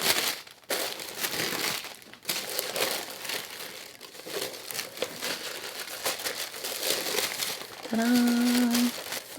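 Branded Chanel tissue paper crinkles and tears as a gift package is unwrapped, close rustling and crumpling running nearly continuously, with someone talking now and then.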